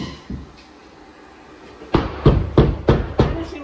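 Sheetrock finishing work in a house under renovation: a quiet stretch with a couple of soft knocks, then five loud, evenly spaced thuds close by, like tools striking drywall.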